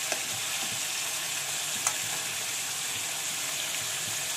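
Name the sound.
food sautéing in a kadai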